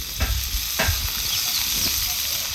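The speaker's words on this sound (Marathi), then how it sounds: "आता हे चांगलं आपल्याला परतून घ्यायचं." Chilies and onion stir-frying in oil in a pan for a village-style chili kharda: a steady close sizzle and hiss, with a few scraping stirs near the start and no talking.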